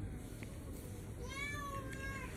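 Faint, thin cat meows, one brief and one longer drawn-out cry, as a monitor lizard pounces on a cat drinking from a roadside drain, set against steady outdoor background noise.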